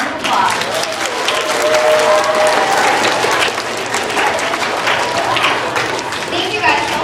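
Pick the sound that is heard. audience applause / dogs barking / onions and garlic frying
audience applause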